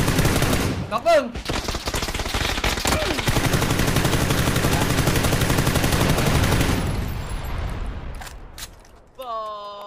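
Rapid automatic gunfire from the shooter game PUBG, a dense sustained burst of loud shots filling most of the stretch before cutting off, with a voice briefly heard near the end.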